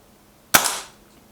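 A single sharp Kral Puncher K air rifle shot, a loud close crack with a short fading tail, alone with no talk.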